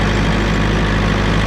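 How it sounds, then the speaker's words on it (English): A small tractor engine runs steadily up close in fourth gear, B range, a constant low rumbling hum with no change in pace and no voices. "We're running 4th B range on the little tractor."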